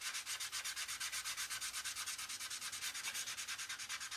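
Three-way sanding stick rubbed back and forth over the painted surface of a Tamiya 1/48 Mosquito model kit, a steady close scratchy rasp in quick even strokes, about ten per second, with no talking.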